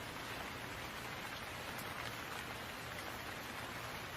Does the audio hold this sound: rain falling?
yes